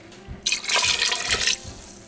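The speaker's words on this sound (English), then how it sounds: "We're putting in 2 cups of chicken broth and 3 cups of water." Chicken broth and water pour into a cooking pot, a short burst of splashing liquid that rises, runs for about a second, then tapers into a few drips.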